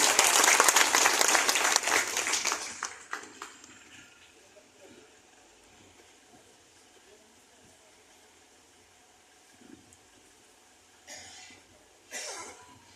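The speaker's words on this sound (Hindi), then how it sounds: "तो एक बार जोरदार तालियां पंडित नीरज शर्मा जी के लिए" A crowd at a village gathering gives loud applause for a speaker, a strong burst of many hands that fades away over a few seconds, followed by quiet murmurs and a couple of coughs.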